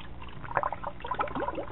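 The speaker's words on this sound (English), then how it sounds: "you want to put more water into the connector" Water pouring and gurgling steadily into a Sunsun HW-304B aquarium canister filter, close by, with bubbling trickles throughout.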